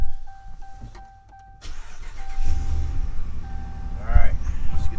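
A 2019 Ram 1500 starting up after a chime tone, the engine catching and settling into a low rumbling idle, close by, with a person talking.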